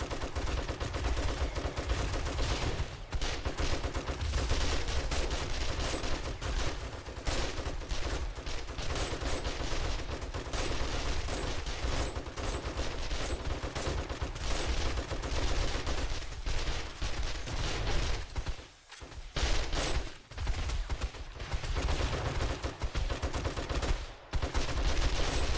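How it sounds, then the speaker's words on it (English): Dense, continuous rapid gunfire pours out while zombies are shot from a winter base in the survival game 7 Days to Die, loud and nearly unbroken, with only a couple of brief dips. "Shoot the zombies."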